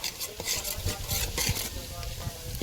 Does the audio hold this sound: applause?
no